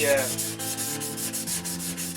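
Sanding by hand, rhythmic back-and-forth rubbing strokes of roughly four to five per second, close and moderately loud, with a faint tonal background underneath and no speech.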